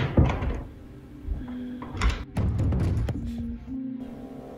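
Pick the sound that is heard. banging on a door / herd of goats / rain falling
banging on a door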